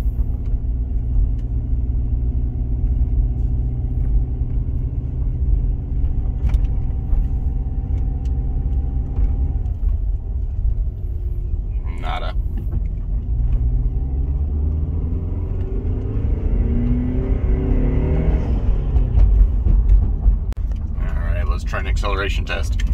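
A Subaru Outback XT with a swapped EJ20X engine climbs a hill at full throttle, its steady engine rumble building and straining in a rising pull, close and loud throughout.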